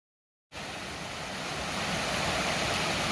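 Woodfin Cascades, a mountain waterfall beside a trail, roars in as a steady broadband rush after half a second of silence, loud and continuous with no voices.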